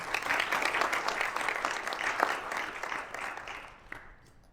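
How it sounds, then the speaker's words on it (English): An audience at a chartered accountants' professional event on wills, estates and tax gives a big round of applause, dense and full at first, then thinning and fading away toward the end. "A big round of applause"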